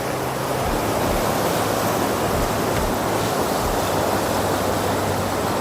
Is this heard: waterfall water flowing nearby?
yes